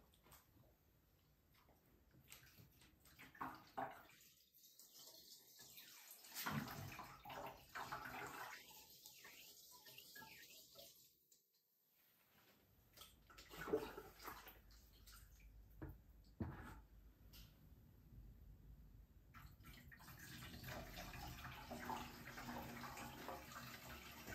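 Hot water pours and splashes into a rusty metal fuel tank, a hollow, resonant wash that cuts out briefly twice before the flow resumes and continues steadily.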